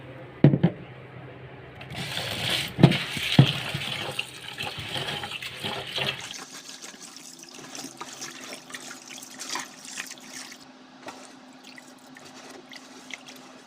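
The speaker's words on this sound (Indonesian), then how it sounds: "pertama-tama kita cuci dulu sampai bersih beras ketan hitamnya" Black glutinous rice being washed in water: running, splashing water with a few sharp knocks early on, then a steadier, quieter trickle and swirl with a low hum beneath.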